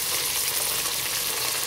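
Chicken pieces sizzle and crackle steadily in hot oil in a home kitchen, a dense close frying hiss with no voices.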